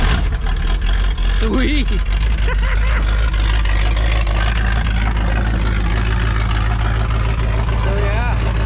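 A 1974 Mercury Comet engine that had refused to start now runs after its first firing, a steady low idle rumbling throughout, with a man's short exclamation over it.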